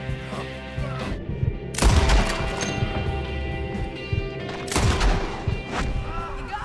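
Sniper gunfire in the western game Red Dead Redemption 2, two sharp loud cracks a few seconds apart over ambient outdoor game sound, with some faint voice in between.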